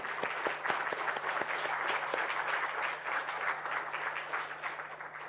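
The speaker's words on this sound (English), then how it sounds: "I think we all need a big clap for him." Applause from an audience at a corporate event welcoming a new CEO, steady clapping throughout with sharp individual claps standing out, faint and somewhat distant.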